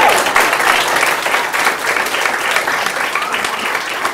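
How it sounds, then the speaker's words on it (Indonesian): A stand-up comedy audience claps and cheers in a dense, steady round of applause that fills the whole stretch without pause. "tepuk tangan bisa kali tuh."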